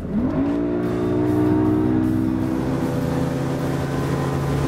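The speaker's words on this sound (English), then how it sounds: "see what we get for a nice crisp throttle response out of our V6 150 horsepower E-Tech" A V6 150 horsepower E-Tec outboard motor revs up with a rising whine, then holds a steady, loud drone as the boat runs at speed on plane, with water and wind noise.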